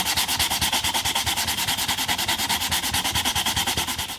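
Brisk, even back-and-forth sanding of a guitar fretboard with 600 grit sandpaper on a soft pad, close and continuous strokes at a quick steady rhythm, with no talk.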